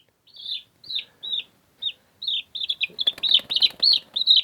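A friendly backyard chicken gives a series of close, short clucks and squawks that grow quicker and more agitated toward the end.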